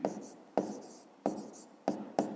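Pen writing numbers by hand on paper, five short scratchy strokes in a steady rhythm, close and quiet with brief pauses between them.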